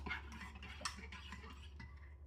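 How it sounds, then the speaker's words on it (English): A spoon stirs a cornstarch slurry for a chicken dinner, giving faint clinking and scraping taps against a pot in quick, irregular succession, close and quiet over a low steady hum. "Stir that up. We don't want any lumps."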